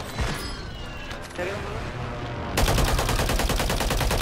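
Video game gunfire on Rebirth Island, with scattered shots and mechanical clatter that turn into a dense, rapid automatic burst near the end, loud against a busy game background.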